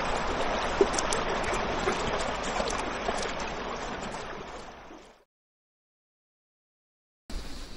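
River water flows steadily at a riverside campsite in Laguna, a broad rushing wash heard up close for about five seconds before cutting to silence, then briefly returning at the end.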